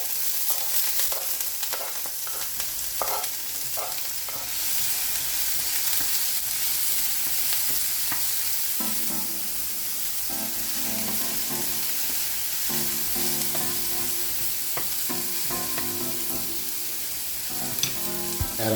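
Shallots frying in a pan give off a dense, continuous close sizzle with scattered crackles and occasional stirring scrapes, and a faint background tone runs underneath.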